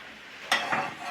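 Mahseer fish frying in coconut oil: a brief, sharp hiss of sizzling rises suddenly over a low background crackle, then settles.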